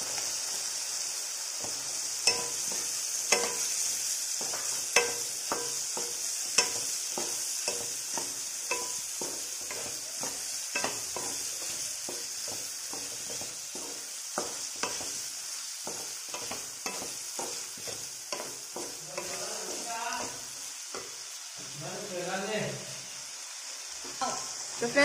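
Potatoes are added to cooked tomatoes in a pan for a spring onion and potato curry. A spoon scrapes and stirs in quick, repeated strokes over a constant close sizzle, with no one talking.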